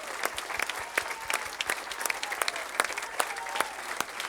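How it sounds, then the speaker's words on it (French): Dense, steady applause from an audience at a 2019 end-of-year stage show, many hands clapping together at close range and filling the whole stretch without any talk. "je voudrais vraiment qu'on les applaudisse"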